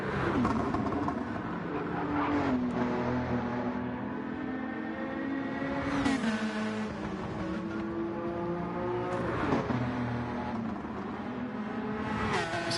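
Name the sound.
racing car engines in the sim racing game GTRC at Bathurst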